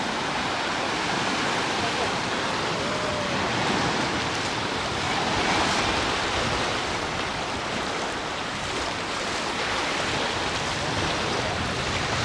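Sea waves wash steadily onto the shore at Alcúdia, Mallorca, a continuous broadband surf roar that swells and eases gently throughout, with no clear voices.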